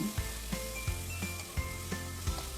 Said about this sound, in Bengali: আমি এখন প্রথমে আদা রসুনের পেস্টটা দেব।